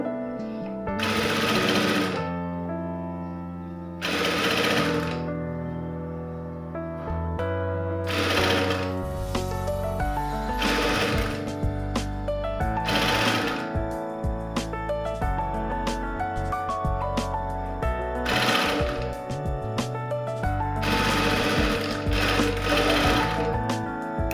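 A sewing machine stitches invisible piping onto lining cloth around a neckline, running in loud, close bursts of rapid needle clatter separated by short pauses, with no talk.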